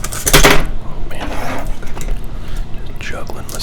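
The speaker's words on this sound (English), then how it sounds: "Just juggling my scissors here." Metal scissors clink and rattle in short bursts as they are handled, close by with faint background noise.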